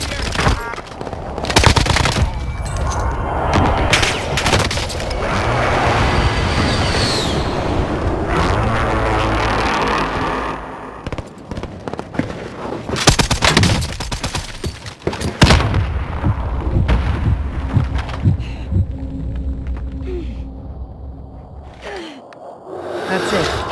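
Rapid automatic gunfire from an M60 and Bullfrog loadout in Warzone, with loud dense bursts, some distant shots and whooshes, and voices talking over the shooting throughout.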